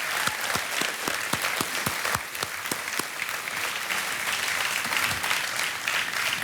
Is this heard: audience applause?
yes